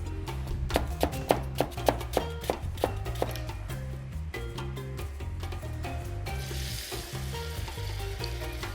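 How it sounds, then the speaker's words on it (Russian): Onions and spices fry in oil for kabsa with a constant crackling sizzle, punctuated early by rhythmic knocks and stirring, beneath background music. "пока мы обжариваем специи, пока обжариваем лук"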